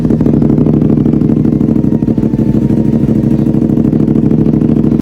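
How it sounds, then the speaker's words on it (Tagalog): A motorcycle engine running at a steady idle close to the microphone, a loud, even mid-pitched rumble with a slight rhythmic clatter that holds throughout, briefly dipping once midway, with no talking. "kinol start ko na yung motor ko."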